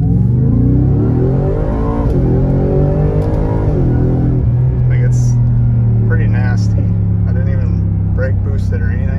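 A Ford Raptor R truck launches hard, its engine roaring and revving up through a quick shift before settling into a steady drone, with someone talking over it near the end.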